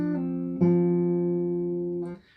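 Acoustic guitar playing the final riff of a song alone: a plucked note rings, then a sharper pull-off attack follows and a sustained tone holds before fading out.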